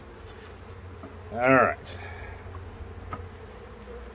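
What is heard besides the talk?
honey bees buzzing during hive inspection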